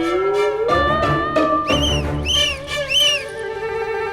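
A whistle carrying from inside a room, with a rising tone followed by several short warbling, chirpy bursts, loud and close, and no voices.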